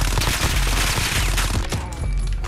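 Rapid, dense automatic fire from a Fennec SMG in the Modern Warfare video game rattles loudly and continuously in close, sustained bursts, with no talking over it.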